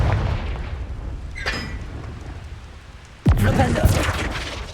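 Confringo explosive spell in Hogwarts Legacy, a sudden sharp blast late in the clip followed by crackling debris, after a quieter stretch with a faint earlier pop.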